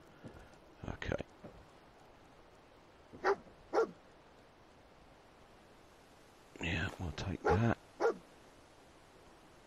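A dog barks in Fallout 4, giving scattered sharp barks in small clusters over a few seconds, the last group longer and quicker, with quiet background ambience between them and a brief spoken phrase early on.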